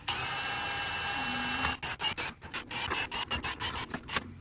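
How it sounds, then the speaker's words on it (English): A drill bores 1/8 inch holes through a firewall block-off plate on a Porsche Spec Cayman, first one long steady whine, then a rapid series of short bursts as hole after hole is drilled. "we're gonna be drilling 1/8 inch holes"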